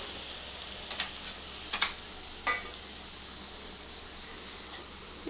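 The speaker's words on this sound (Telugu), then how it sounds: "ఇప్పుడు ఇట్లా వేసారు మరుగుతుంది కదా" Salted water heating in a pan for Telangana-style uppudu pindi, a rice-flour dish, gives a steady soft hiss with a few faint, brief pops and bubbles, and no one speaks.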